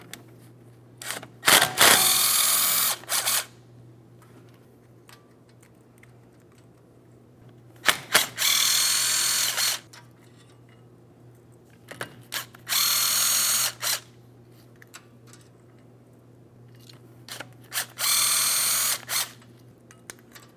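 Ratchet loosening mounting bolts on the steering knuckle of a Ford Transit-250 van: four loud bursts of fast clicking, each lasting about two seconds, separated by pauses with a low steady hum and occasional metallic clanks.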